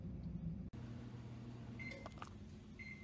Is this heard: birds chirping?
no